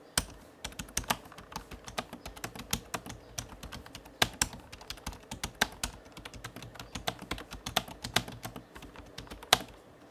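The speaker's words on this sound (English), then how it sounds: "I even don't expect this board to make a lot of noise while typing" Steady typing on a Redragon Karura K502 budget gaming keyboard with chiclet-style membrane keys, a continuous stream of soft, quick clicks heard up close and alone.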